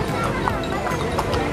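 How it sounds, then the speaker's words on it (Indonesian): Horse hooves clip-clopping at a lakeside tourist spot, Telaga Sarangan in Magetan, close and steady beneath busy crowd noise and people talking. "Ini kuda."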